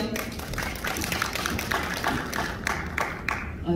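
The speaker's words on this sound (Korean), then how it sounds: "여러분 박수 부탁드릴게요." Moderate applause from an audience at a Korean book-launch event, scattered individual claps blending into a soft steady patter that holds throughout, a little distant in the room.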